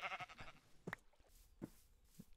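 Several short, faint Minecraft sheep bleats come at irregular intervals over a soft background.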